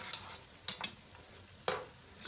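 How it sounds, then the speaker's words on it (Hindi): Mutton gravy frying in a pot while being stirred, with a few short scraping stir strokes and brief sizzling bursts over a quiet simmering background, no voices. "अब मैं इसकी बुनाई करूँगी"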